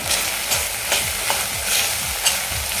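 A spoon scrapes and stirs red chilli powder and Kashmiri red chilli powder through a pan in steady strokes, roughly every half second, with a soft sizzle underneath and no talking.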